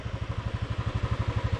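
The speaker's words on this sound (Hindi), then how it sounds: "अरेबिक सी के बगल में बाइक चला रहा हूँ" Motorcycle riding along the Arabian Sea coast in Goa, its engine thumping in a steady, fast rhythmic pulse at moderate level, close by and with no voices.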